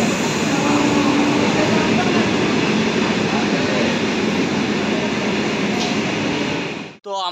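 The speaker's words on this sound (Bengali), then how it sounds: "তো আমরা এখন পানাগড় স্টেশনে আছি" A train rumbles loudly and continuously at Panagarh railway station, a dense roar with faint squeals, cutting off abruptly near the end; talk may sit beneath it.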